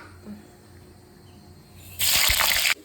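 Ingredients for mutton chukka drop into hot oil in a pan, setting off a sudden loud sizzling burst after a quiet stretch that lasts under a second before cutting off.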